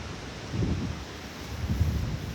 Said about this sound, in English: Or we just deal with windy sound.